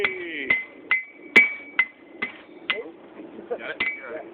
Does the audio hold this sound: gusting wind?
no